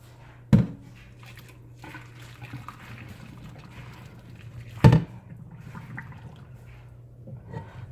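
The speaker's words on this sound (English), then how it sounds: "I'm going to drain the water off of this" Water draining off a pot of cooked chicken for curry chicken, a steady low pouring and trickling with two sharp clanks of the pot, moderately close, no talking.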